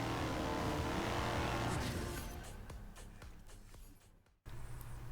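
Ferrari 599XX Evo engine in the racing game Forza Horizon 4, a loud sustained roar that eases in pitch and volume, broken by quick gear-shift blips, dropping out briefly before surging back.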